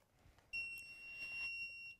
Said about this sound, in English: sometimes it'll beep before you even put it in the mannequin's mouth